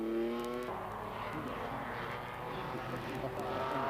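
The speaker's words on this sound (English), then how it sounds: "Roaring through the Kennel Bend and accelerating strongly, this is both a spectacular and a quick climb" A 1925 ACGN Cognac Special racing car roars through Kennel Bend and accelerates hard up the Shelsley Walsh hillclimb, its engine note loud and close, then dissolving into a broad rasping roar.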